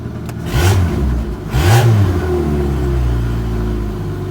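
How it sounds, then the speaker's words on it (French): Car engine with the catalytic converter removed and the exhaust disconnected, open and loud, idling then revved twice in quick rising blips before settling back to a rough, steady idle, close up with no speech. "Je suis en échappement libre, c'est pour cracher l'humidité"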